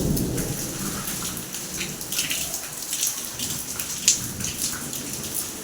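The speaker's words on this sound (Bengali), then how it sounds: "আর এখন বৃষ্টি পড়ছে।" Steady rain pours outside during a storm, a dense continuous hiss of drops striking surfaces close by, with faint low rumbles of thunder in the background and no voices.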